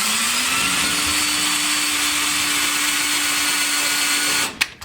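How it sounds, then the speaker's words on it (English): A power drill pre-drilling a bolt hole for a TV wall mount runs steadily and loudly at close range, its motor whine rising briefly at the start and holding a level pitch before it stops abruptly near the end; no speech. "Put that drill bit right in there. Get that loosened up, or at least get her pre-drilled."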